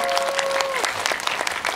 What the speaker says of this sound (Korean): 그 조인성한테 좀 박수 좀 부탁드려야 될 것